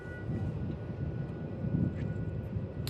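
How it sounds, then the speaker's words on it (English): A Jetstar airliner arriving at Melbourne Airport, its steady low engine roar rumbling continuously with light wind noise throughout, a distant, even drone. "So we've got Jetstar coming in"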